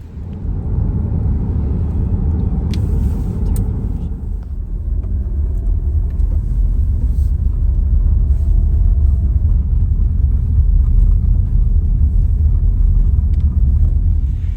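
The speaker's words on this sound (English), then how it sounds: "we just heard thunder rumble overhead" Thunder rolling overhead near the Beaver Lake trailhead: a deep, sustained rumble rolls on for the whole stretch, low and heavy, swelling slightly midway, with no voices.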